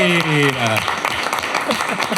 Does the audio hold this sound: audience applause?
yes